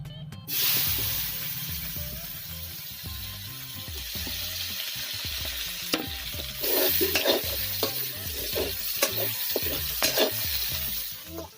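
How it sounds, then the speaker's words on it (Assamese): Onions sizzle and fry steadily in a hot wok while a utensil scrapes and stirs them in a repeated rhythm, loud and close with no voices. "এতিয়া আমি কেৰাহীত পিঁয়াজ দিছোঁ।"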